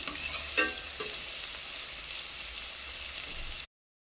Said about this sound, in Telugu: కరివేపాకు కూడా వేసుకొని వీటిని ఫ్రై చేసుకోవాలి.